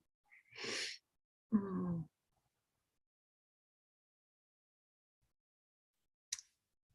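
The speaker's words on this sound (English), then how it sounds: "Now I feel a sneeze coming on" A single sharp sneeze breaks the quiet, followed by a brief low vocal sound and a faint click later, otherwise near silence.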